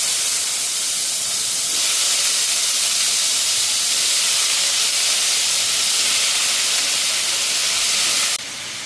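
Cucumber and eggplant pieces for a Bengali shukto hit hot oil in a pan, giving a steady, loud broadband sizzle and hiss that holds evenly for several seconds before dropping slightly near the end.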